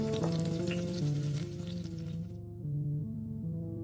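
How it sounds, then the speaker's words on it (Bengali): Fish fries in hot oil with a bright, crackling sizzle that fades out after a couple of seconds, set against a steady tonal musical background in a cartoon. "সাধু বাবার দেওয়া তেলে মাছ ভাজতে লাগলো"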